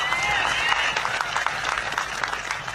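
Audience at a speech breaks into applause, a dense crackle of many hands clapping filling the space, with voices mixed in beneath the clapping.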